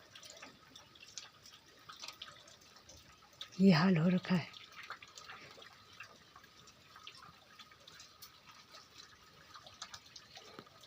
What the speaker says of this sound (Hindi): इतनी खतरनाक वाली बारिश हो रही ना परसों से